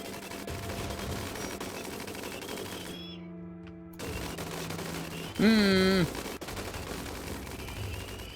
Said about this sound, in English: Hopefully our rotary gun turrets that we built for this explicit purpose is up to the task.